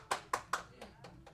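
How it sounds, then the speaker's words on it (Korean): A few hands clap in welcome during a Sunday church service, three sharp distinct claps then softer scattered ones, quiet and brief. "우리 환영의 박수를 드리겠습니다"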